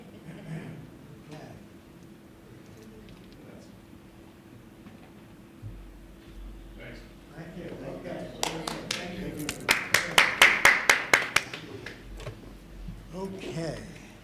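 Applause at a board of education meeting starts quietly after murmuring and room noise, swells into a burst of sharp clapping from a small gathering, then fades.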